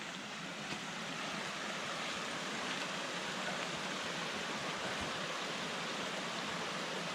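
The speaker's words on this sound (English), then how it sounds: "Little water feature here." Steady rushing water from a small mountain stream or waterfall beside a river trail in the Olympic forest, a continuous broadband wash holding even from start to finish, moderately close with no voices.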